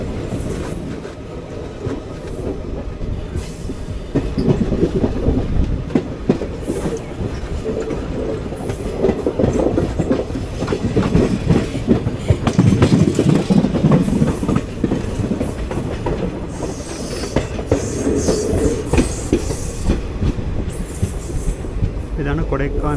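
Guruvayur Chennai Express (16128) heard from inside an AC 3-tier coach: steady loud rumble with rhythmic clickety-clack of wheels over rail joints and occasional squeal, running continuously throughout.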